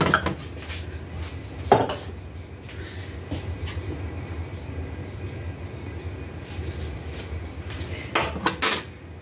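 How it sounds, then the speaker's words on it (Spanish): Shredded coconut stirred in a bowl with a utensil: a near, continuous scraping and clinking of metal against the dish, with louder knocks at the start and a cluster of sharp clatters near the end. "Se revuelve bien el coco."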